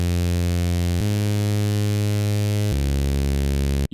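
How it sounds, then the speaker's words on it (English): Buzzy, harmonically rich saw wave from a Serum synth pitched down two octaves, playing a few sustained low notes in a row, loud and close with a sharp cut at the end. "We then want to go to analog basic shapes and select a saw wave."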